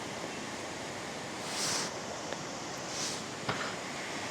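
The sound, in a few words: swollen river flowing strongly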